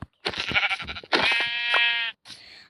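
Video game sheep bleating up close, two long wavering bleats followed by a shorter one, loud and clear with nothing else underneath.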